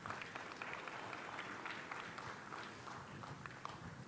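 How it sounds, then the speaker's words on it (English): Audience applause for Iron Dog snow machine racers at a safety expo and racer drawing, a dense, steady wash of clapping from a crowd that holds at an even level throughout. "Let's give them a round of applause."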